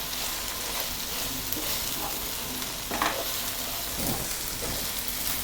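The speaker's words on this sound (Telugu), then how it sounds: "ఇంగువ, జీలకర్ర, కొబ్బరి పొడి అన్నీ వేసి వేయించుకోవాలి." Asafoetida, cumin and coconut powder frying in a pan with a dense, continuous sizzle, plus occasional stirring scrapes near the end, close and fairly loud with no voices.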